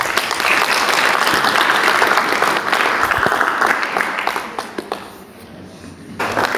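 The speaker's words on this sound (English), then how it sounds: "je vous invite tous de manifester à notre auteur notre reconnaissance par un grand applaudissement" A seated audience at a book event in Rwanda applauds the author, with dense sustained clapping for several seconds that thins and fades toward the end before a brief final burst.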